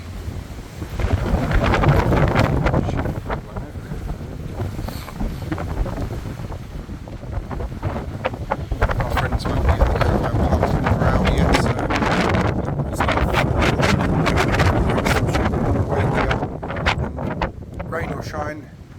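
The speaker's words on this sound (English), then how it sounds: "Gosh, isn't it windy?" Strong gusting wind at a coastal wetlands nature reserve on a wet day, roaring and buffeting the microphone continuously at close range, with rain-like hiss mixed in.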